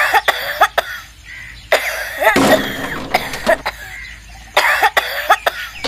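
A child coughs in repeated harsh bursts, close and clear, with short quiet gaps between the coughing fits.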